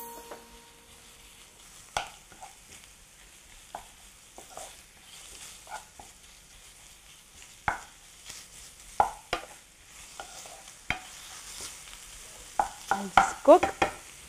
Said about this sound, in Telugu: మీట్ కాస్త ఫ్రై అవుతూ ఉండగా పొడి పొడిగా సపరేట్గా వచ్చేస్తుంది